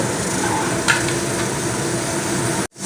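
Soybean chunks frying in hot oil in a pan, a loud, dense, continuous sizzle with stirring scrapes, close up, which cuts off abruptly near the end as the chunks are lifted out.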